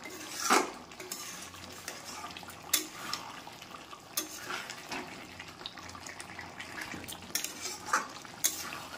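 Kadai chicken with a little kasuri methi being stirred in a pan, with clinking metal on metal and scraping strokes at irregular intervals over a low, steady kitchen background.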